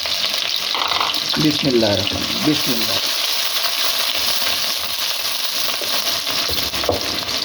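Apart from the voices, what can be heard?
onions frying lightly in hot ghee in a kadai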